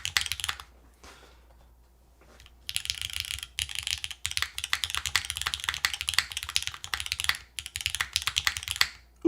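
Rapid, steady typing on a Sonoma keyboard fitted with Calligraphy switches, close and crisp, a dense run of clacks with a brief pause early on and no talking.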